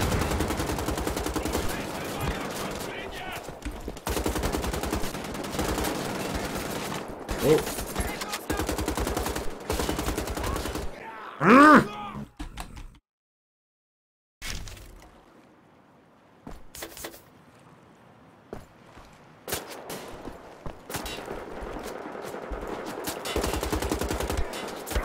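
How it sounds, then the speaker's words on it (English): Gunfire in the shooter video game Wolfenstein: The Old Blood, dense bursts of rapid shots and clattering action for about eleven seconds, then a sharp cut to near silence followed by sparse, quieter game sounds and scattered shots. "Okay, who's shooting at me?"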